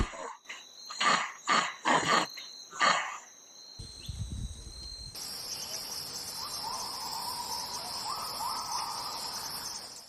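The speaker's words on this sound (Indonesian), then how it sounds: "Suaranya yang khas menggema lembut, menyatu dengan dengung serangga dan gemerisik daun." Steady insect buzzing fills the background after a few short rhythmic calls, with a dense, continuous hum and faint rustling leaves throughout, in an Indonesian riverside forest.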